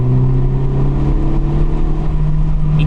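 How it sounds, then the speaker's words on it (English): A methanol-fuelled car engine drones steadily from inside the cabin with the windows down, a loud, even hum with a strong low tone and wind rush over it, no speech. "the sound of the car with the windows down I have now"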